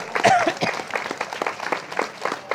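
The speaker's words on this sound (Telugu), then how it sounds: "గట్టిగా చప్పట్లు కొట్టాలి" A short burst of scattered clapping from a small group, uneven and fairly close, with a voice briefly audible.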